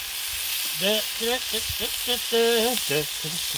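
Smash burgers sizzle on a Blackstone griddle as they are pressed with a spatula, a steady hiss underneath while a voice hums or sings a tune in short bursts over it.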